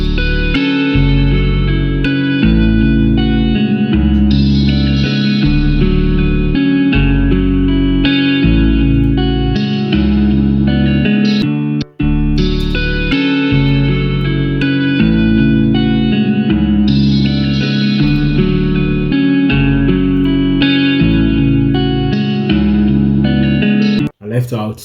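Melodic electric guitar sample with reverb and delay effects, layered over a steady pulsing low bass, continuous and loud with repeating phrases and a brief dropout midway.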